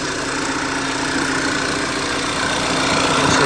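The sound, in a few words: 2013 VW Tiguan engine idling cold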